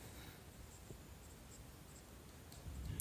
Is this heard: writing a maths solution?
yes